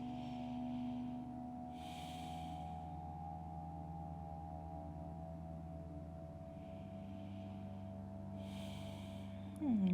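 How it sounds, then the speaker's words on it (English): Slow, settling breaths during gentle yoga come as soft airy exhales, two or three spaced several seconds apart, close and quiet over a low steady room hum. "Taking a few settling breaths here"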